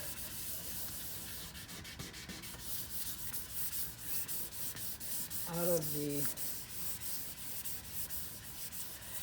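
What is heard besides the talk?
hand sanding a decal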